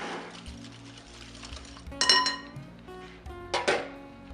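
Brown sugar being mixed into muffin batter in a bowl, with soft stirring and two sharp clinks of a utensil against the bowl, close and quiet.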